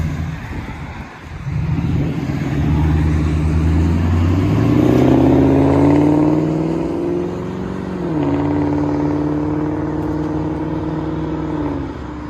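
Exhaust of a 2003 Mercury Grand Marquis with a 4.6 liter V8 and four factory catalytic converters: a loud, close engine rev that climbs in pitch, eases off, then holds at a raised idle, with no talking.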